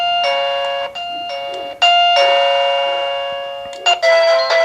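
A Mubview doorbell camera plays several loud electronic chime tones in sequence, each ringing out and decaying, with a few quick restarts near the end.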